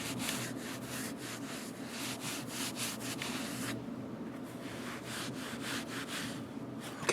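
A rag rubs silicone protectant over the metal frame of a Colt Python revolver in rhythmic close strokes, a soft scratchy swishing repeated steadily, quiet and without speech.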